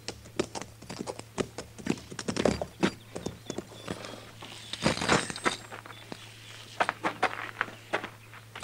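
Horses in a corral on a Western radio drama, their hooves clopping in an irregular walking rhythm, moderately close and fairly soft, with scattered knocks and clinks around them.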